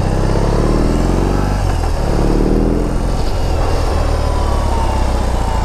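A 2021 BMW R18 motorcycle's engine runs loud and close, a continuous throbbing rumble that shifts pitch as it revs and rides on.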